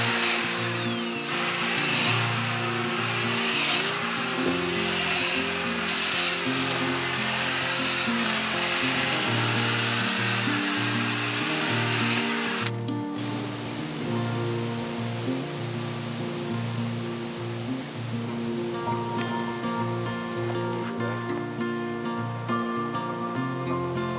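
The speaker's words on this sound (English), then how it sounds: "The auger is working super, super, super well." A powered garden auger drills planting holes in soil for a butterfly garden, its motor whining loud and close without pause, the pitch dropping midway as it bites deeper.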